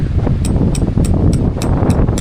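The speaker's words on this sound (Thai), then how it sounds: "ทีนี้ลมแรงมากนะคะ" Strong wind at a beach buffets the microphone with a loud, continuous roar, while sharp, evenly spaced flaps or rattles, likely a camper van's awning, snap in the gusts.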